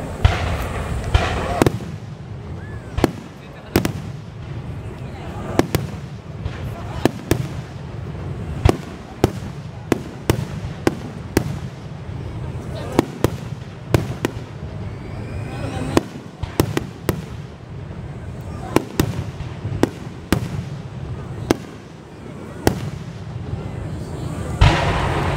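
Fireworks at the Hachioji fireworks festival bursting repeatedly, sharp cracks and deep booms echoing at irregular intervals over a continuous rumble of distant explosions and crowd noise.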